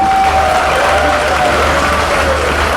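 Audience applause at a Lahore Smart City launch event, a dense, loud, continuous wash of clapping from a crowd throughout, with a low hum underneath.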